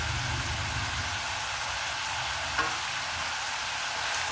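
Chicken adobo with melting chicken cubes sizzles steadily in a pan as it is stirred, a dense, even frying hiss with a faint scrape partway through and no talking.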